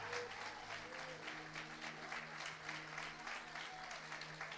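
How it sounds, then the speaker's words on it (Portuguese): A church congregation applauds in worship, a soft, fairly distant ripple of clapping over low sustained tones, steady and quiet for the whole stretch. "nós aplaudimos a Ele neste lugar"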